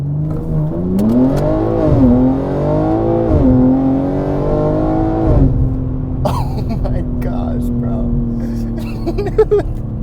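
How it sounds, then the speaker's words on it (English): A 700 hp BMW G80 M3 Competition with xDrive revs and roars through a launch-control start, pitch rising in steady sweeps, then settles into a lower drone with a few short clicks near the end. "So we're gonna see what a launch control is like."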